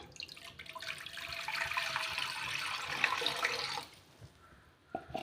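Water runs and splashes into an iron pan for about four seconds, a bright rushing pour that then stops, followed by a few faint drips and clinks, quiet and close.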